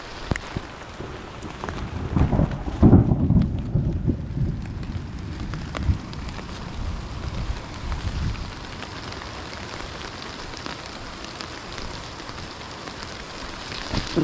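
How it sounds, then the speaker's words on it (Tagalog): Heavy rain pours steadily on a cucumber farm during a harvest, a dense close hiss with a low rumble of thunder early on, continuing without speech. "Ay, lakas na rin ulan."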